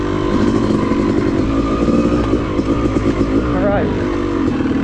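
A Yamaha YZ250 two-stroke dirt bike runs steadily along a woods trail, its engine droning loud and close with small throttle changes and a brief rising rev near the end.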